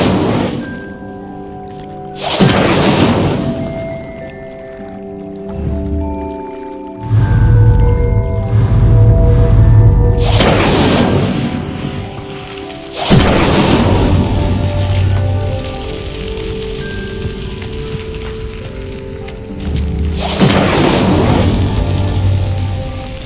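Incendio fire spell cast repeatedly in Hogwarts Legacy, lighting pyres: three loud whooshing bursts, each flaring then settling into a low crackling, rumbling fire roar, with game music tones underneath.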